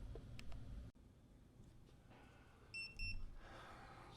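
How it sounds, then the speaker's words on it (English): A short pair of high electronic beeps from a DJI Action 2 camera marking the end of recording sounds near the end, faint and quick, over quiet low background noise. "So the beep tells you it ends."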